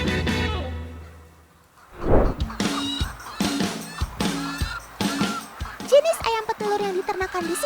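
Elba laying hens, a breed said to come from Arabia, cluck and honk together on a farm in a busy, continuous chorus that follows a quieter opening, with no one speaking.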